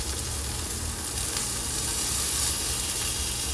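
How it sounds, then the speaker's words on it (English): A pan of steak au poivre gives off a loud, steady, close sizzle as the steak is turned, a continuous hiss of frying with no talking. "it has been 3 minutes, so let's carefully turn our steak."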